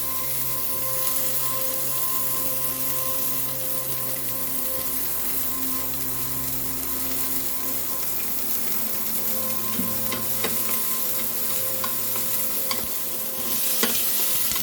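Chopped onions fry in oil in a saucepan on a stove, a continuous close sizzle with occasional stirring clinks and scrapes against the pan.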